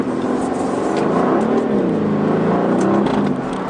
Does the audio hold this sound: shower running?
no